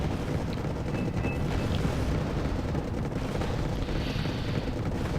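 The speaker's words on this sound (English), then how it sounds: "Cannons are firing." Cannon fire in the Wargame Airland Battle video game, a continuous heavy low rumble of battle with booming shots blending into a dense, loud roar, no talk.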